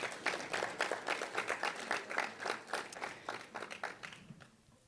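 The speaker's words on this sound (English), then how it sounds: "Round of applause for Project Arush" An audience claps at a student venture pitch event, a quick burst of applause with distinct rhythmic claps that swells and then thins out, fading away toward the end.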